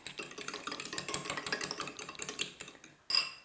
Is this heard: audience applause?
no